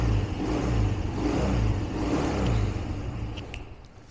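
A Honda Benly motorcycle engine runs just after a first-kick start, a steady close mechanical drone that holds level and then eases slightly toward the end.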